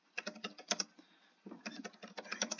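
Typing a comment on a computer keyboard produces two quick bursts of close, crisp key clacks, irregular in rhythm and fairly quiet, with a short pause between them and no voices.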